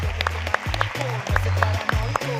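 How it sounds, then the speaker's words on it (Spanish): At an ImpactUP talk with Socialab Uruguay, a crowd gives a strong round of applause, with sharp claps mixed into a voice that keeps talking over them. "Otro fuerte aplauso"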